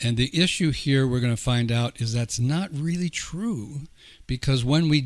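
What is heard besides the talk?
No everyday noise stands out behind the speech.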